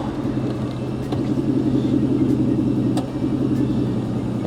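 A 2015 Aston Martin Vanquish with a V12 engine passes by in a tame flyby, a steady mid-pitched engine drone with a low rumble, moderately loud and without voices.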